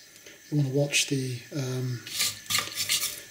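Dry garam masala spices scrape and rattle in a frying pan as they're toasted and stirred with a spoon or shaken, with short clattering bursts while a person talks over it.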